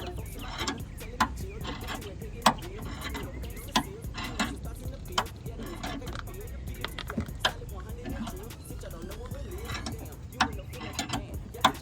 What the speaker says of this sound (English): I don't know if y'all can hear the little sounds of the tire coming off of the concrete